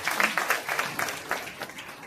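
A crowd at a Bhagwat Katha gathering in Himachal Pradesh claps to welcome newly elected gram panchayat members, a brief, fairly faint patter of applause.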